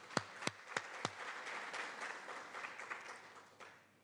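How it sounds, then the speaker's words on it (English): Audience at a library and information science symposium applauds the organizers: a few sharp, loud claps open the round, then a quieter, steady patter of clapping from a moderate crowd fades out over several seconds. "Can we give them a round of applause"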